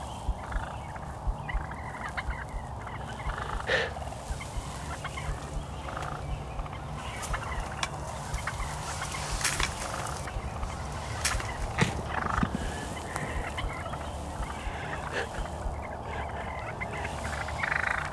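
Wild turkeys gobbling outdoors, repeated calls at mid distance over a steady background, without speech.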